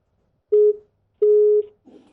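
A telephone busy tone sounds after a caller's line drops during a live news broadcast: two steady tone bursts, the second longer, loud and clear with no talk over them.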